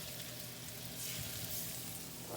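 Salmon sears in a hot pan, giving a steady, close, crackling sizzle that runs without a break.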